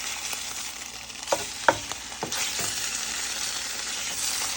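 Bologna fries in a pan with a steady hissing sizzle, broken by a few sharp clicks and taps of a utensil near the middle before the sizzle carries on evenly.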